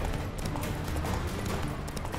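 Rapid hoofbeats of a galloping horse in The Witcher 3: Wild Hunt pound continuously under a dense, noisy game soundtrack.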